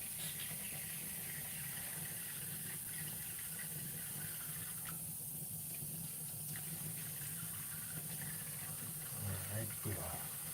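Water runs steadily from a tap into a sink during rinsing off, a faint continuous hiss throughout.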